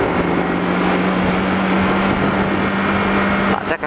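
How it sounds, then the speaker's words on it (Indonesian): A truck overtakes on a road near Saradan, East Java, heard as a steady, loud engine and road drone with a sustained low hum, then a brief rush as it passes near the end. "truknya nyalip"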